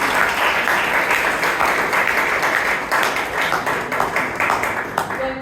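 Audience applause at a Toastmasters club meeting in Bangalore, a dense, even round of clapping that fills the room throughout.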